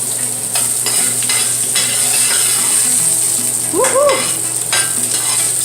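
Ginger sizzles and crackles steadily in a hot pan while being sautéed for a Filipino ginisang sayote with beef, with occasional stirring clatter and a brief excited exclamation from a voice partway through.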